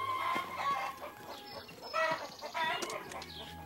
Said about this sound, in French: Caillou n'aimait pas que les poules courent après lui.